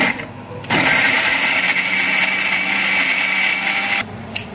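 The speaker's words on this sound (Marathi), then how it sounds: "मिक्सरला गोल फिरवून घ्या" A kitchen mixer grinder grinds coconut masala for a dry prawn dish, spinning up into a loud, steady whirring whine that runs for about three seconds before cutting off abruptly.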